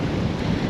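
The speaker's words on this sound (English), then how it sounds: "it is blowing a gale" Strong gusting wind on a beach at Tunstall, Sand Le Mere, on the UK coast during sea fishing. It makes a steady, loud, close roar buffeting the microphone throughout, with no talking.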